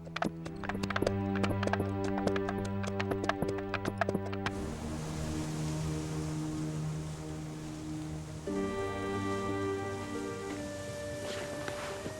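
Horse hooves clip-clopping in a steady, close rhythm for the first few seconds, then giving way to a continuous wash of ambient sound with sustained tones.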